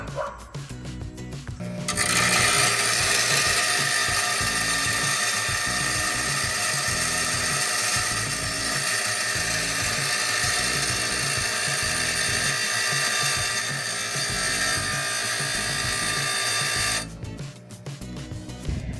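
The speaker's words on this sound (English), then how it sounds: "I'm gonna go ahead and cut this to fit" A power tool cuts a metal rack bar to length in a workshop while fitting out a VW Bus, giving a loud, steady high-pitched whine and grind that runs for about fifteen seconds between brief quieter moments at the start and end.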